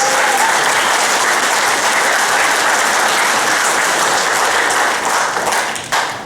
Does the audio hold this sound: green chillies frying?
no